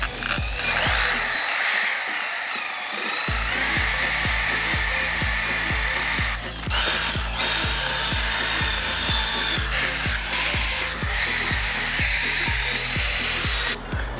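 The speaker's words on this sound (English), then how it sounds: "We're going to grind that thingy and make it clean for paint" A power grinder works a metal part from a 1957 VW Roadster, likely a wheel rim, to clean it for paint. It gives a loud, continuous whine with a rapid rhythmic chatter, briefly dropping out near the start, up close with no voices.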